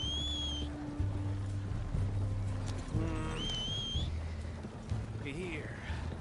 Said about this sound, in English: Trying to keep my horse moving.